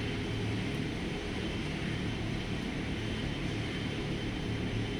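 Steady, continuous engine drone inside a Dornier Do 328 turboprop airliner in X-Plane 11 flight simulation, cruising between KWJF and KSAN; an even, unbroken hum and whine with no talk.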